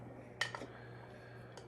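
Shredded baby carrots scooped by hand out of the container of an Amzchef ZM1517 slow masticating juicer with grater attachment: a few faint, quick scraping clicks close together near the start, then near quiet.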